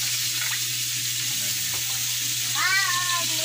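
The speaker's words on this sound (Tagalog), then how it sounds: "Gigisahin natin yan guys." Ingredients sautéing in a pan for tilapia cooked in coconut milk, a steady close sizzle running under the whole stretch, with a brief cat-like meow near the end.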